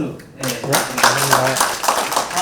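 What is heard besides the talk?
audience clapping for lecturer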